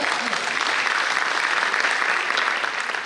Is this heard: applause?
yes